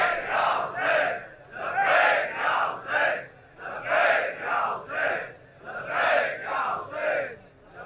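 A large crowd chants salawat together in rhythmic unison, voices swelling and falling in repeated phrases, loud and reverberant.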